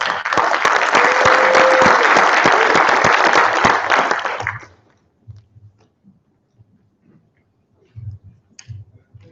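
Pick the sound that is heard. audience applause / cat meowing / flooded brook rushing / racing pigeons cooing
audience applause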